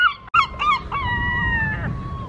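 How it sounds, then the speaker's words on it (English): Seagulls calling near a road in a UK town, a few sharp harmonic squawks followed by a longer drawn-out cry, fairly close and loud over steady traffic-like background noise. "Even the seagulls are protesting."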